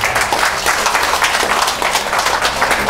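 Audience at a health lecture on healthy lifestyle clapping together, a close, dense burst of continuous applause filling the room.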